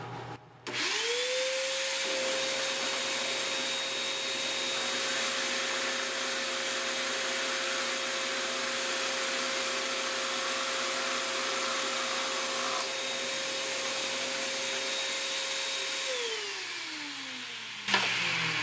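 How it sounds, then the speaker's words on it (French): A drill press fitted with a 30 mm Forstner bit spins up into a steady motor whine while boring into wood, running evenly for about fifteen seconds before winding down, close and alone. "placé ma perceuse à colonne avec mes guides pour percer ça et j'utilise une mèche Forstner"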